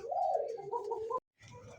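A pigeon coos close by in a short, soft, warbling call, breaks off, then murmurs faintly again.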